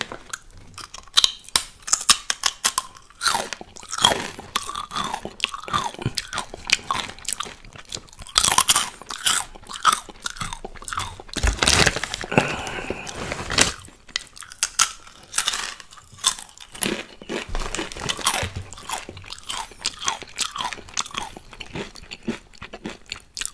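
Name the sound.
eating crunchy Takis Fuego chips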